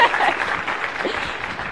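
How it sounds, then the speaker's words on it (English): Audience applause at a talk on impact storytelling, a steady wash of clapping filling the short stretch, fairly loud with a faint voice briefly underneath. "Just keep the applause coming."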